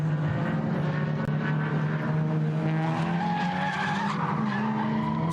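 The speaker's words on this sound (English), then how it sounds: "Squeal of tyres." Race car tyres squeal loudly through a sustained skid at the Nürburgring during an NLS endurance race, with engine drone underneath and a steady high-pitched screech for several seconds.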